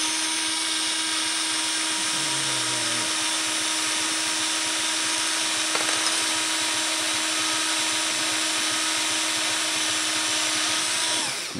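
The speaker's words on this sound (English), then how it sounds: "Okay, so I'm going to drill this side," A power drill whines steadily and loudly for several seconds, with a brief dip in pitch as it bites, then runs on until stopping.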